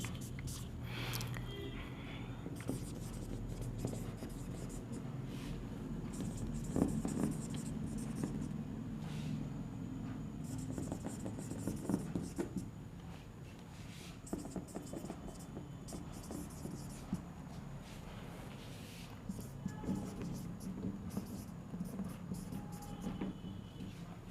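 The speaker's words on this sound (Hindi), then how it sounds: "तो यहाँ लिख लेते हैं" Pen scratching on paper during an English grammar lesson, soft intermittent strokes close by, heard under a quiet teacher's voice and faint room noise.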